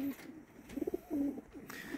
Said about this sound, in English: So here are the young birds.